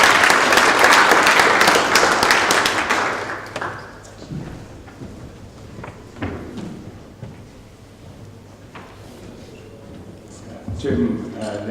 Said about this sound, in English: a round of applause for Lord Lamont of Lerwick